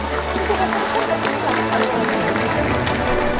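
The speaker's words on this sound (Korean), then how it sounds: "큰 박수 보내주시기 바랍니다" A crowd applauds at a county citizens' day ceremony outdoors, dense continuous clapping throughout with a low background hum fading at the start.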